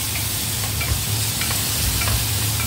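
Tomatoes and onions sautéing in a pan for Filipino pork sinigang, a steady close sizzle with scraping stir strokes running throughout, no talking.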